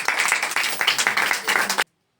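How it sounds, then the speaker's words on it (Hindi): A church congregation claps in praise during a Christian worship service: a quick burst of dense, rhythmic applause from many hands for just under two seconds that stops abruptly. "एक बार ताली बजाकर प्रभु को महिमा कर दीजिए।"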